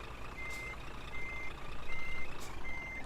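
A truck in Scania Truck Driving Simulator reverses out of an alley, its reversing alarm beeping in regular intervals over a low engine rumble that rises near the end.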